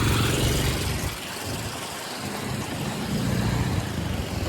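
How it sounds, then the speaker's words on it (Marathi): Cars pass continuously on a road, heard from inside a vehicle as a steady broadband traffic rumble with low engine drone, dipping briefly and then swelling again as vehicles go by. "कंटिन्यू गाड्या येतात"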